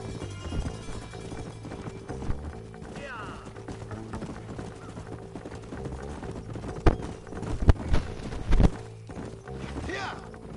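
Horse galloping in Red Dead Redemption, rapid rhythmic hoofbeats under a busy game soundscape, with a few sharp louder hits near the end and people talking over it.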